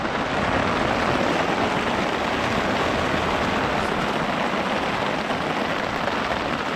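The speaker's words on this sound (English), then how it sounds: "It's 3-something in the morning and it is just pouring down out here." Heavy rain pours steadily at night outside a primitive shelter near a remote mountain lake, a dense, unbroken hiss of drops close around, with no voices.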